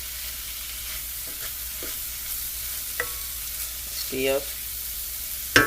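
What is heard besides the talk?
frying in a skillet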